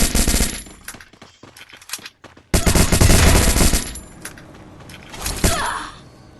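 Automatic gunfire rattles loudly in a Free Fire match as an enemy is shot, with dense bursts, a short lull, then more sustained shooting and impacts.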